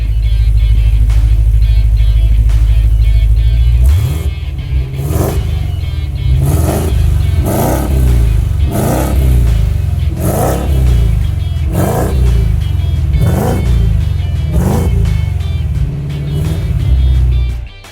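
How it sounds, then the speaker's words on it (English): A Jeep Grand Cherokee Trackhawk with an HPF Stage 2 upgrade and dual 3-inch stainless steel catback exhaust runs on a dyno. A loud, steady drone gives way to about eight sharp, evenly spaced revs, close and alone. "gives the Trackhawk an aggressive but at the same time refined exhaust note"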